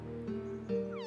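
A cat in the video game Omori meows a few times in close, clear, drawn-out calls over steady background game music, with no talking.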